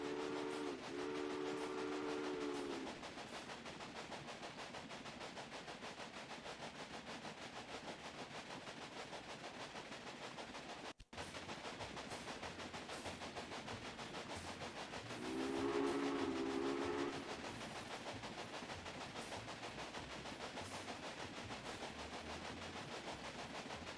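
A train runs along the track in the video game Railway Empire, with steady rolling rumble and two short whistle blasts, one at the start and another midway, at low overall volume.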